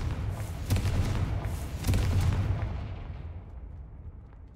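Confringo fire spells explode in Hogwarts Legacy, two sharp deep blasts about a second apart. Each is followed by a rolling rumble, and the rumble tails off to quiet.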